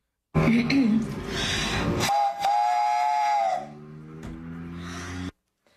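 A woman imitates a train whistle with her mouth, producing a loud, close, breathy tooting call that holds a steady pitch and then fades into a lower hoot, with brief speech at the start.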